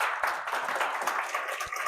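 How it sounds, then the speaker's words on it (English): After a museum history lecture, an audience gives a round of applause: a quiet, steady patter of many clapping hands in a room, slightly distant and unbroken by talk. "Give her a round of applause, everyone."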